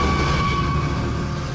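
A Pikes Peak cog railway train, a 130-year-old mountain railway, rumbles along steadily with a constant low drone and a sustained tonal hum, loud and close throughout with no talking.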